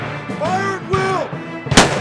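Loud gunfire in a western movie battle scene, with sharp booming shots bursting out between shouted voices.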